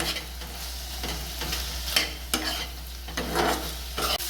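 Vegetables, chicken and prawns sautéing in a pan with ground pepper, a steady close sizzle broken by several scraping stirs of a spatula, with no talking.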